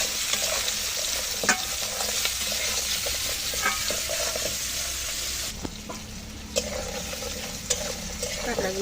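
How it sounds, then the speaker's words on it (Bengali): Crabs frying with spices in a hot pan for a Bengali crab curry with potato and ridge gourd, a steady loud sizzle broken by scraping stirs, with no talking. "এখানে ভালো করে ভেজে নেবো কাঁকড়াগুলো।"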